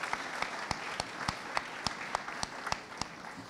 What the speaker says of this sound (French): On peut l'applaudir, on peut l'applaudir.